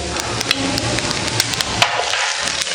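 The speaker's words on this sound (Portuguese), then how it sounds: "Refogar nessa base o ouri-pepe." Ouri-pepe leaves sautéing in licuri oil with garlic and onion, a loud, dense sizzle broken by sharp taps and knocks of a utensil against the pan, the frying hiss continuing throughout.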